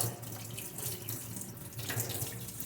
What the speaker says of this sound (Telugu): వాటర్ అంతా వైట్ కలర్ వచ్చేంత వరకు కడిగేయాలండి.